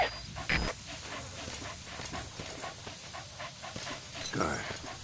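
A dog pants steadily in the video game Metal Gear Solid V, a quick rhythmic breathy panting under game ambience, with a couple of brief louder sound effects.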